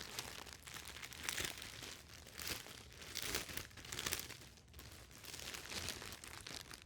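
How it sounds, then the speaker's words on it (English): Plastic packaging around a cotton tote bag crinkles and rustles continuously up close, loud and uneven in irregular bursts of handling. "Sorry about the crinkling noise."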